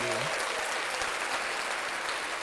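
An audience applauds in steady, dense clapping that fills the whole stretch, loud and close, with a brief voice at the very start.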